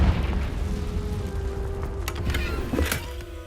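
The Confringo blasting spell goes off in Hogwarts Legacy as a dull booming burst over low rumbling ambience, followed by a couple of short crackling pops near the end. No speech is heard over it.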